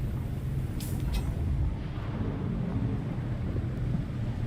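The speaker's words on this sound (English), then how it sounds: "There's a storm." A storm with thunder rolls across the desert in the Dune video game, a steady low rumble that fills the whole stretch with a couple of brief sharp crackles near the start.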